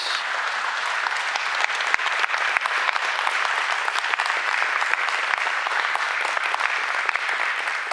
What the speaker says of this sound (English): A round of applause for Shannon, please.